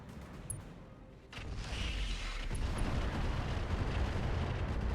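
Video game explosion that swells into a loud, sustained rumbling roar about a second in, following a few sharp pops. The roar holds steady to the end, with no voices.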